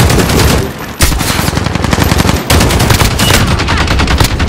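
Gunshots fired into the air in Call of Duty: Modern Warfare rattle in loud, fast automatic bursts, nearly continuous, with two short breaks between volleys.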